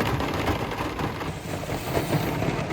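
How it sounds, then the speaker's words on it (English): Rain patters steadily on a truck during a foul-weather hunt, a continuous dense hiss heard from inside the cab, moderately loud and unbroken throughout. "I'm just sitting here as I'm hearing this rain hit the truck"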